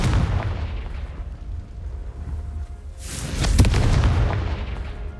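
A Confringo blast spell from Hogwarts Legacy goes off as a deep, booming explosion with a sharp burst and a rumbling tail. It follows a lower rumble at the start, and there is no talk.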